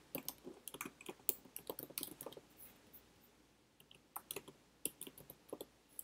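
Quiet, close typing on a computer keyboard, an uneven patter of soft key clicks in short bursts with brief pauses, no talking.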